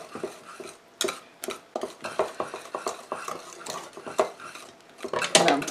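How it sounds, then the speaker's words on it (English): Butter and lemon peel are whisked in a bowl on a stand mixer, a rapid run of clinking, scraping metal-on-bowl strokes, close and uneven in loudness, with no talking. "And I'm whipping that up."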